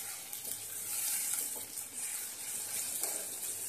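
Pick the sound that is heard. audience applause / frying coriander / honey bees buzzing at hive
frying coriander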